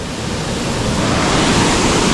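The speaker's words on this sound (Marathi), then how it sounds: "इकडून झरे येत आहेत" Spring water flows into a forest stream in the Konkan during the rainy season, a loud, close, unbroken rushing wash with no pauses.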